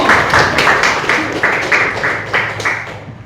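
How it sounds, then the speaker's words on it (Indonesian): A classroom of students claps for a classmate, Ibnu, during an Islamic ethics lesson, a steady patter of many hands at close range that lasts a few seconds without speech. "Tepuk tangan buat Ibnu."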